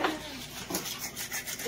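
Fresh-harvested mussels rubbed against each other to scrape rock off their shells, a close, gritty rasping that repeats in short uneven strokes for under two seconds, with faint background noise.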